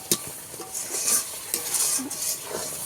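Semolina milk cake mixture being stirred in a pan, with close scraping and soft sizzling and a few light clinks of the spoon against the metal in an uneven rhythm, and nobody talking.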